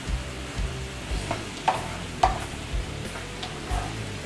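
A sauce of orange juice, lemon juice and sugar simmers and bubbles steadily in a pan, with soft pops and a couple of sharper clinks, close and fairly quiet.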